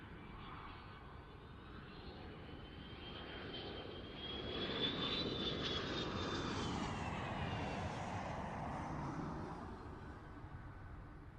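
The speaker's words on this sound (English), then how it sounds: "There go the reversers." A Boeing airliner's thrust reversers deploy just after landing at the Farnborough Airshow, a broad jet roar that swells mid-clip and then holds loud and close before easing slightly.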